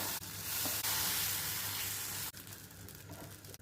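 Sweet adai batter, a lentil-rice batter, poured onto a hot pan, giving a steady close broadband sizzle that drops in level after a couple of seconds.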